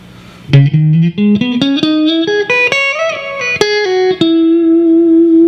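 Electric guitar lick, a quick run of clean picked notes sliding up through pentatonic and diatonic phrases before settling on a sustained final note, played alone and clear.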